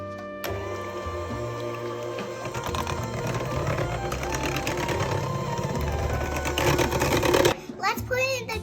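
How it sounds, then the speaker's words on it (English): An electric mixer whirs steadily through pumpkin pie filling made with ginger and vanilla, a continuous mid-loud motor hum with a rattling texture that runs for most of the stretch, then cuts off near the end as someone talks. "We're gonna use an electric mixer."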